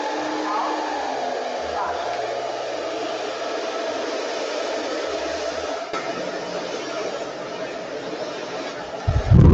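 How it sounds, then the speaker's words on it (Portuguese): A hair dryer on hot at low speed runs as a steady airy hiss throughout, faint voices murmuring underneath, ending in a short loud burst. "Vou trabalhar com secador em temperatura quente, né?"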